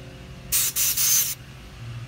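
Pressurized air hisses into a lawn mower gas tank in three short, loud, close bursts, the second and third nearly running together, with no talk.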